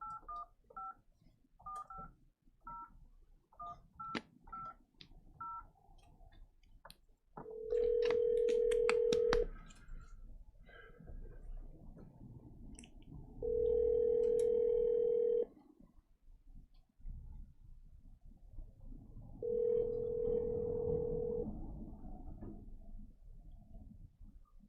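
Telephone being dialed during a county board meeting: a quick run of touch-tone beeps, then three long ringback tones spaced several seconds apart, with faint room noise between them.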